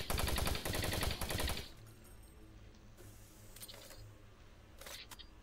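Rapid burst of gunfire in Doom 3: Resurrection of Evil, loud and dense for about a second and a half, then dying into a low ambient hum with faint scattered clicks and hisses.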